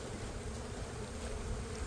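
Yellow jackets and honeybees buzz around a beehive gourd, a steady low insect drone that stays constant and fairly faint throughout, with no voices.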